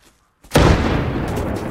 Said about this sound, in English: let me try to throw a grenade at him